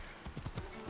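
Horse hooves clip-clop in the Assassin's Creed Odyssey video game, a quick run of several distinct hoof beats within a second, fairly quiet.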